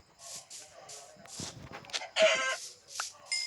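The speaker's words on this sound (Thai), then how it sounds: "ไก่จ้า ได้ยินไหมว่าเสียงใคร" Minecraft chicken clucking in repeated short bursts, with a voice talking at points and a few brighter squawks.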